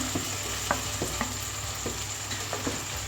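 Lightly fried bottle gourd (lauki) is added to sizzling masala in a pan for lauki karahi. A steady hiss of frying runs under repeated sharp scraping and clinking stirs against the pan.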